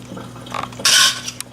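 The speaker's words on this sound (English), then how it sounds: "And we'll cover them with about 1 inch of water." Water gushes briefly into a pot holding glass jars in a home kitchen, a short bright pour with light clinks of glass and metal around it.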